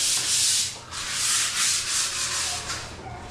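Sandpaper rubs back and forth in steady, rhythmic strokes, a close, loud hissing scrape repeating several times without talk.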